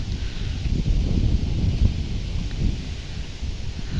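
Gusty wind rumbling across the microphone, a continuous low blustery roar with faint rustling, steady and fairly loud throughout.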